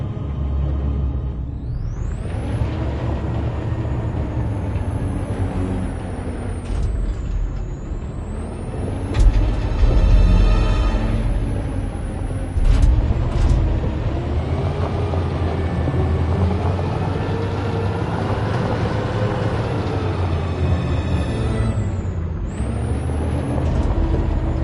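Heavy truck engine rumbling steadily in Detroit: Become Human, with hissing air brake releases and gear whines rising over the drone, close and continuous throughout.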